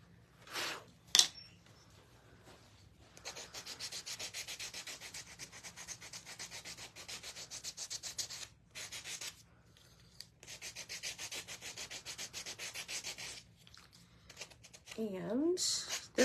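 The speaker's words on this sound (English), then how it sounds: "this little handy dandy sander is also on our Amazon shop" A small handheld sander buzzes in bursts against black-painted wooden cutouts, with a few rubbing strokes and pauses between passes; quiet and close, with a voice speaking over parts of it.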